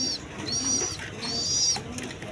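A pair of Giribaz pigeons, a male and a female, coo softly and close by in a short, faint, murmuring burst with no talking.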